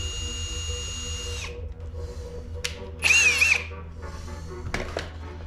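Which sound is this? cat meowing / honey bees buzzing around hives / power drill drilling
power drill drilling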